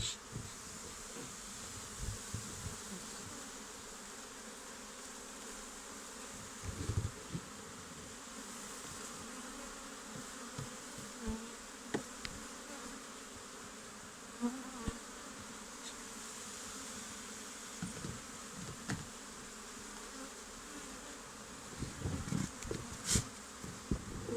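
Steady buzzing of many bees during honey harvesting, a continuous hum with occasional closer passes, and no voices present.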